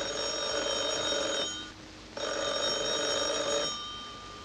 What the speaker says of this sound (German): Das Telefon klingelte nämlich.